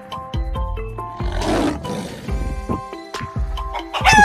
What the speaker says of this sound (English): Lion. This is a lion.